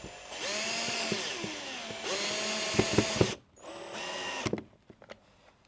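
A power drill drives screws into the wooden pieces of a bird feeder, whirring in sustained bursts with pitch shifts as each screw seats, then brief clicks and short stops near the end.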